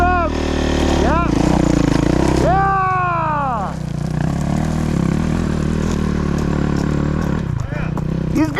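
A dirt bike engine revs steadily up and down, loud and close, with pitch swells that climb and fall, while riders talk over the constant drone.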